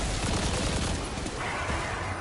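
A trace rifle firing in Destiny 2, a dense unbroken stream of rapid energy-weapon fire, loud and close, mixed with impacts and explosions.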